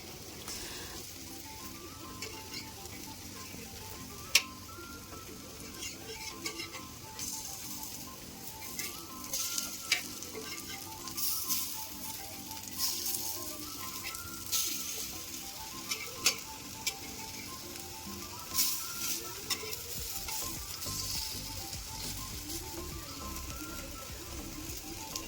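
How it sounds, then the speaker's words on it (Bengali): Lentil and rice fritters (bora) fry in oil with a steady, crackling sizzle and occasional stirring scrapes, close and continuous throughout, with no talk. "সেটা মিক্সারে করে বড়াটা ভালো করে ভেজে নিলাম"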